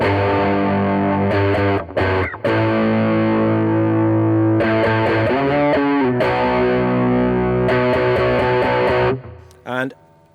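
Fender Troublemaker Telecaster in the middle pickup position blending in the neck, strummed chords ringing loud and full with a gritty, distorted edge, sustained bursts separated by short breaks and a final quick strum.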